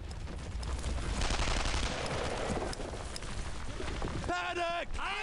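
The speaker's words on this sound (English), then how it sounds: "I'm under some fire!" Dense, continuous gunfire from a battle in Brothers in Arms: Earned in Blood, rapid overlapping shots roaring steadily throughout, with shouted voices near the end.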